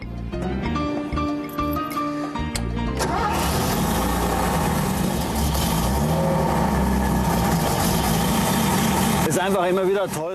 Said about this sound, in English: The sound of the engine is always a real thrill.